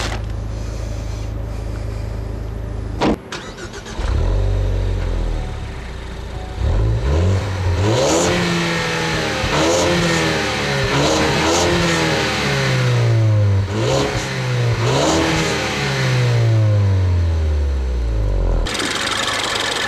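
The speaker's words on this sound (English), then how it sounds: "Ford's 2-liter turbo EcoBoost engine." A 2013 Ford Focus ST's 2-liter turbo EcoBoost engine is started, then revved repeatedly, climbing and falling in a string of loud, close throttle blips over a steady idle before settling back down, with no talk.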